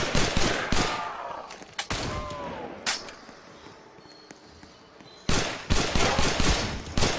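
Gunfire crackles in a Roblox zombie shooter as dense bursts of rapid shots open and close the stretch. Sparser single cracks and game effects fill the middle, and all of it is loud and close.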